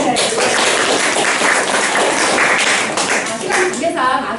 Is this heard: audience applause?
yes